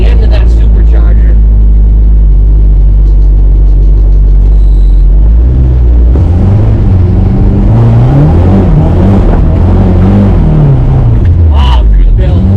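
A supercharged 1971 Volvo 1800E four-cylinder idles loud and close, then revs up and down in rising and falling sweeps, with a supercharger belt whining above the engine and someone talking over it.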